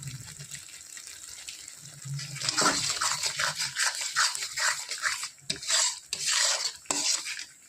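Spices, chilli powder and turmeric with mustard, being sautéed for a Bengali boal fish curry, starting with quiet background clatter, then a bright sputtering sizzle with scraping, stirring strokes that rise and dip over several seconds.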